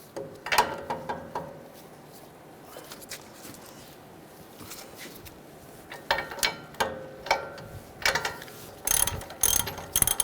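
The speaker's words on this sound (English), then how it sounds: "We're going to take this nut off, use a 21mm socket." A ratchet with a 21mm socket loosens a suspension nut on a Ram 1500, giving close bursts of rapid clicking pawl sounds in several separate runs, with quieter handling noise between them.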